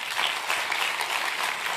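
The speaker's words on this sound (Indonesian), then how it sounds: "tepuk tangan Tuhan Yesus." A church congregation claps during a sermon, a brief, dense burst of many hands applauding together at steady loudness with no voices over it.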